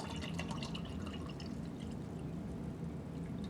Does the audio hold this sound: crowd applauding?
no